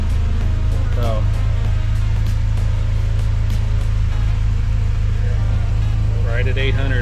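A Honda K24 engine swapped into a 1987 Accord LXI coupe idles steadily with a low, even rumble that holds throughout, while voices talk faintly over it.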